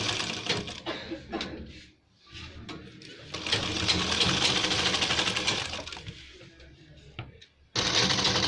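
A sewing machine stitches a folded hem on a ladies' full-collar kurta, running in several steady bursts with short pauses between them, close and fairly loud.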